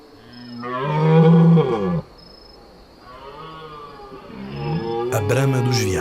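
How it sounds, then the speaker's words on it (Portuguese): Red deer stags bellowing during the autumn rut in the woods and hills of Trás-os-Montes, Portugal: long, deep, loud roaring calls, one stretching over about a second and a half, followed by further rough bellows. "Os machos deambulam pelas florestas e montes, ecoando fortes bramidos."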